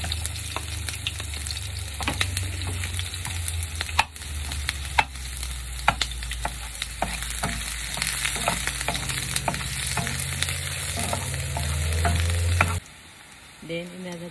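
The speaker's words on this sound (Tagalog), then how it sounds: "magsimula na tayong mag-gisa. Lagyan ko ng mantika." Onion sautéing in oil for mung bean stew with bitter melon and moringa, a loud continuous sizzle with clicking stir strokes, cutting off abruptly near the end into a quieter clatter.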